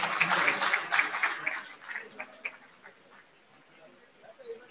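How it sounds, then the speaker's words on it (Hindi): Applause at a university convocation ceremony, a crowd clapping in a broad dense burst that is loudest at first, then thins into scattered claps and fades over a few seconds. "जोरदार तालियों के साथ"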